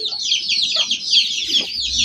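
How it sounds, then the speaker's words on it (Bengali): Several chickens cluck in short, repeated bursts close by, with a faint low rumble underneath and no talking. "অনেকগুলা মুরগি আছে, ঠুকাই ঠুকাই দিছে"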